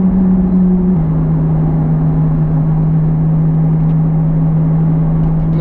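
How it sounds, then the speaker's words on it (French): Ferrari 458 Italia V8 engine and exhaust holding a steady, loud drone while driving, with a slight drop in pitch about a second in and a continuous rumble underneath. "qu'est-ce que tu as pensé du son d'échappement quand la voiture est un peu plus sollicitée déjà?"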